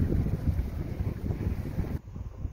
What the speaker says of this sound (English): And the wind is definitely blowing pretty good.